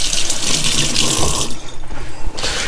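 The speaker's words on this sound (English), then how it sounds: "Wash the hand off for the millionth time." A kitchen tap runs hard while hands are rinsed beneath it, a loud, close, steady splashing that shifts in tone partway through as the hands move through the stream.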